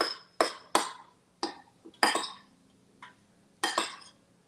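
Jalapeno taco topping stirred in a bowl: a string of sharp clinks and scrapes from a utensil striking the dish, each tapping off quickly, with short quiet gaps between and no speech.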